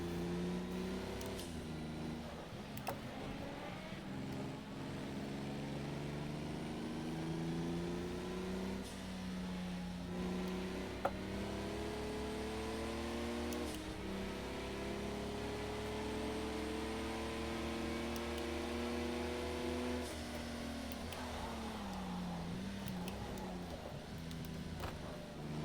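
A racing car engine in a Project Cars 2 or Dirt 2.0 VR session drones faintly and steadily, its pitch climbing and falling through repeated gear shifts under a soft hiss, with no one talking.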